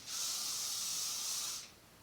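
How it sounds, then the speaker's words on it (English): Hairspray from an aerosol can hissing onto the ends of hair in one steady spray lasting about a second and a half, close and alone, then cutting off. "I just gently will spray the ends of my hair"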